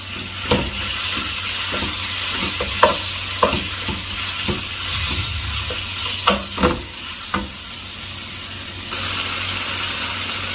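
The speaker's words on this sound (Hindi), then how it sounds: "चिकन को मैं कुक करूंगा हाई हीट के ऊपर जब तक चिकन अच्छी तरह ब्राउन हो जाए" Chicken pieces frying over high heat in a pan for spring roll filling, a steady loud sizzle punctuated by repeated scraping stirs of a utensil, with no talking.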